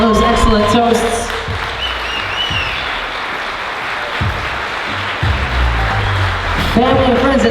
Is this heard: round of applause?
yes